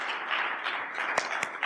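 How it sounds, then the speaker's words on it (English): Church congregation applauding a newly married couple, a brief steady patter of many hands clapping with a few sharper claps standing out. "Can you give them a round of applause?"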